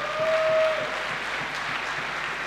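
Tournament audience applause, a steady wash of clapping from a crowd that swells briefly at the start and then holds at an even level.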